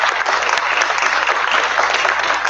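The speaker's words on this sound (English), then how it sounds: "Let's give Costello a nice round of applause" Steady, dense applause from a conference audience fills the room loudly and evenly, with no voices over it.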